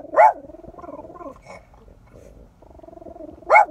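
A dog barks twice, loud and close, once at the start and once at the end, with quieter whining or growling tones in between.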